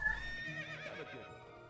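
A horse in World of Warcraft whinnies once, a high rising neigh that wavers and fades over under two seconds, standing alone and close with no talk over it.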